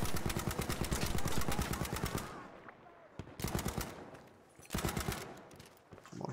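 STG assault rifle fire in the shooter game Battlefield V: long, fast automatic bursts of evenly spaced shots, broken by short pauses, loud and close throughout.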